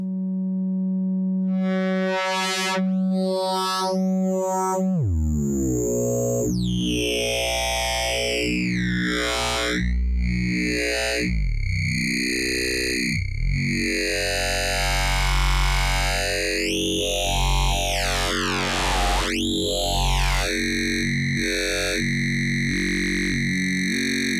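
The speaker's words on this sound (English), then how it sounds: "use audio rate sine waves into the wavefold depth" Synth tones from an Instruo Tš-L wavefolder module growl and sweep with bright, shifting formant-like overtones as audio-rate sine modulation folds the waveform, steady and loud throughout without any voice.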